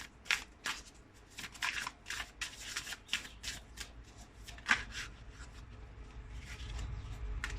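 Tarot cards being shuffled and drawn by hand, a run of close, soft riffling and sliding bursts with a few sharper snaps, fairly quiet and without talk.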